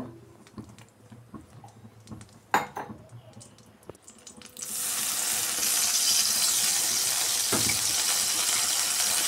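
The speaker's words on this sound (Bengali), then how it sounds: "আর সামান্য একটু জল দিয়ে দেব।" After some clinks of utensils, water hits a hot wok of jaggery and a loud steady sizzle takes over for the rest.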